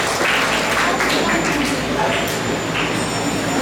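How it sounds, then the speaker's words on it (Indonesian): Audience applause at an event broadcast in Banyuwangi, a broad steady wash of clapping that fills the whole clip at constant loudness, with no other sound standing out. "tepuk tangan untuk mereka berdua."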